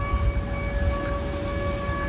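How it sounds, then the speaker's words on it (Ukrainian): An air raid siren sounds in war-damaged Irpin, a steady sustained wail with several stable tones held over low rumbling background noise, fairly loud and continuous throughout. "сирену."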